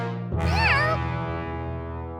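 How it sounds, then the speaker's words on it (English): A cartoon cat gives a single clear, wavering meow over a sustained musical backdrop in an animated kids' show. "Meow? a cat!"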